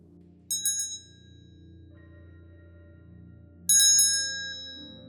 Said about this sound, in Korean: 겨울에 길거리에서 들어본 구세군 종소리와 비슷했어요